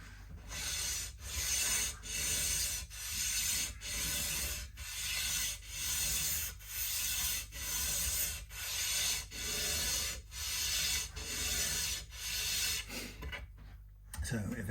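Custom guitar nut shaped from a block on a Strat refurbishment, rubbed back and forth across a file or abrasive in a steady rhythm of about fourteen strokes, each a bright rasping swipe, close and fairly loud, with a low hum underneath.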